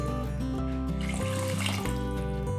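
Water poured into a pot of rice in a home kitchen, a continuous splashing pour with a steady rushing texture over a faint musical background throughout.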